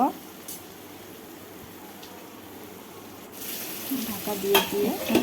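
Potatoes frying in a pan for a potato and pointed gourd curry, a low steady sizzle that swells louder near the end with stirring scrapes.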